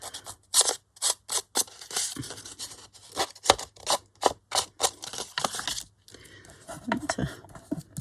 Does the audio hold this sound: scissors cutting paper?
yes